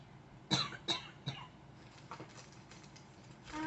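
Three quick, close coughs in a row, followed by softer throat sounds and breathing.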